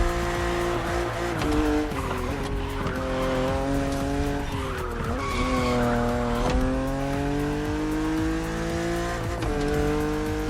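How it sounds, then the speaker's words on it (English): A BMW Z4 E89 coupe cabriolet driven in The Crew Motorfest game, engine revving loudly and continuously with pitch sweeping through gear shifts, tires squealing during cornering. "you are driving a coupe cabriolet"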